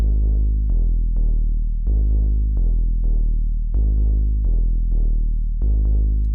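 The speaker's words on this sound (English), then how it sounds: "This is like a really cool deep bass for house." A deep house bass patch synthesized in Serum, with light distortion and high end tamed, plays alone as a run of punchy, sustained low notes, each decaying before the next in a steady groove.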